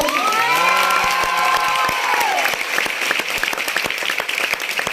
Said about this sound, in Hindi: देखो जोरदार ताली दो।